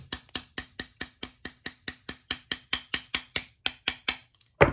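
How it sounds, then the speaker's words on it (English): A small hammer taps skid caps onto the frame of a SAB Nitro Kraken 580 RC helicopter, about twenty sharp, evenly spaced clicking taps close up, with a slightly louder knock at the end. "These are super tight, but now they're tapped into place."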